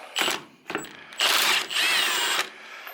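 A Milwaukee M18 Fuel 1/2-inch impact wrench with a 21 mm deep socket breaks loose an old, long-seized nut in several loud, close bursts: two short hits, then two longer sustained hammering runs.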